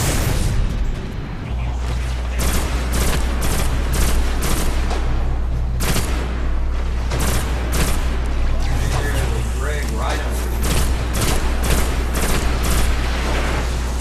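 Dense gunfire and a grenade blast in the Destiny video game, with rapid repeated shots and booms over a steady low rumble and a voice talking throughout.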